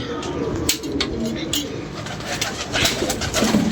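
Pigeons coo and call over a busy outdoor hum, with wing flutters and scattered bird noises throughout.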